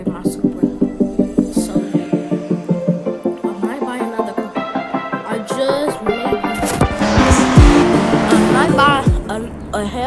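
In the Driving Empire video game, a car engine revs in rapid repeated pulses, then tires squeal loudly through a drift, with a voice talking over the engine noise.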